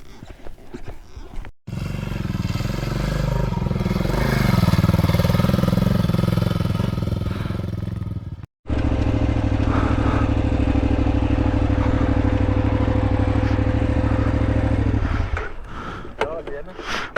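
A motorcycle engine idles loudly and steadily with a low throbbing rumble, cutting out briefly midway before running again, then fading near the end.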